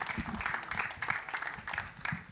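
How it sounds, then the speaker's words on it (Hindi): An audience at a film trailer launch applauds a screenwriter, brief uneven clapping from a crowd with rhythmic surges, heard in a short snippet. "लेडीज एंड जेंटलमैन, जोरदार तालियां प्लीज"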